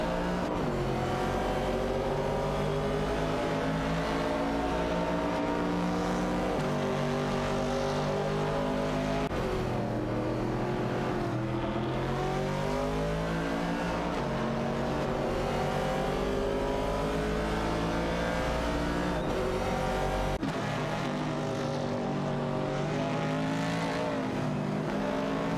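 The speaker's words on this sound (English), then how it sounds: "Feds then made a strong move to advance past both Tenkamin in 704 and Nominum Canuknite, securing his position at P11." Race cars in a racing video game roar and rev continuously as they overtake one another, engine notes rising and falling in layered, loud waves throughout with no talk.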